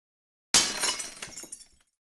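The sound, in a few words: dishes being smashed, sound effect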